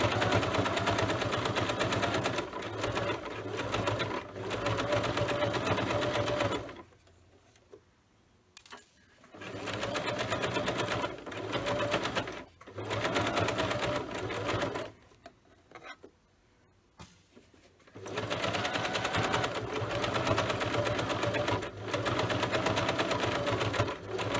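A sewing machine stitching fabric runs in steady, loud bursts of rapid stitching, pausing twice briefly before starting up again.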